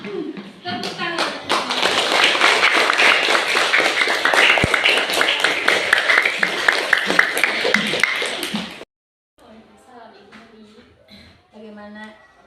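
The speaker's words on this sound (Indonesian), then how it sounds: "Tepuk tangan." A small group applauds in a training session, with dense, steady hand clapping for about eight seconds that stops abruptly, followed by quiet talk.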